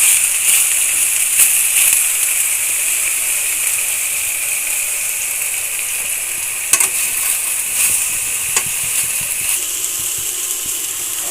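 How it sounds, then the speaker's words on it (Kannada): Sliced bitter gourd frying in hot oil for a home-style palya, giving a steady, close sizzle with scattered crackles and pops throughout. "ಈಗ ಇದು ಎಣ್ಣೆಲಿ ಫ್ರೈ ಆಗ್ತಾ ಇರಲಿ"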